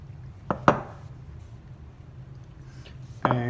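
Sourdough dough is set into a bowl with a few light clinks and knocks of dish and glass, two close taps early on and a louder clatter at the end, over a quiet background hum.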